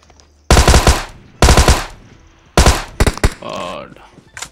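Automatic gunfire in PUBG: three loud, close bursts of rapid shots, each lasting about half a second, then a few scattered single shots and a brief voice.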